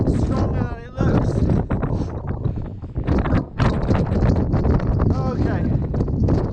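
Strong gusting wind near the summit of Snezka mountain on a summer hike roars and buffets the microphone almost continuously, with brief lulls between heavy blasts.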